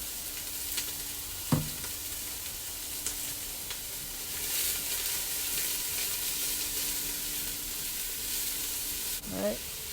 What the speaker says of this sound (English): I'm going to go ahead and drop in 2 cups of diced onions. Alright. Give it a mix.